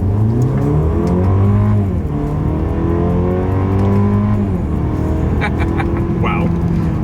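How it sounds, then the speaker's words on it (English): A 2025 Mercedes-Benz C 300 in sport mode accelerates hard from the cabin, its engine note rising in pitch through the gears, then dropping sharply at each quick paddle-shift before climbing again, with a loud, steady roar throughout. "Let's put the paddle shifters and acceleration here to the test."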